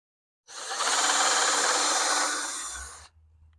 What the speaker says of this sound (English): I'll just drill 4 holes.